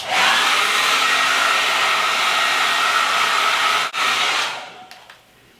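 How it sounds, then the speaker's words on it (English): A hair dryer blows loudly and steadily on hair flipped upside down, a close, continuous roar that briefly dips once and then winds down and shuts off near the end. "So I'll just flip my head over and blow dry it the rest of the way."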